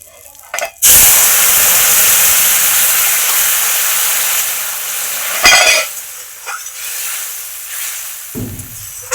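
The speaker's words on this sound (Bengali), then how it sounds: "কিছুক্ষণ ফুটবে এটা, তারপরে নামিয়ে ফেলবো।" A village-style curry with cumin and turmeric sizzles and bubbles in a pot, giving a loud, steady hiss close up for most of the stretch, with a few short knocks and scrapes near the end.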